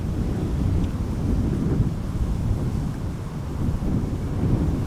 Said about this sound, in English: It is a bit windy over here